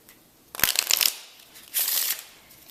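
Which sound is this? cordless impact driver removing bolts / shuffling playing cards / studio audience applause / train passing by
shuffling playing cards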